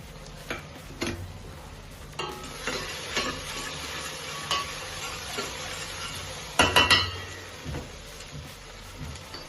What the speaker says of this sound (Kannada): ಬೆಳ್ಳುಳ್ಳಿ ಪೇಸ್ಟ್ ಹಾಕ್ತಾ ಇದ್ದೀನಿ